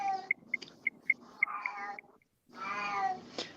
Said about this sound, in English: It's because there's a freaking cat outside on our front porch.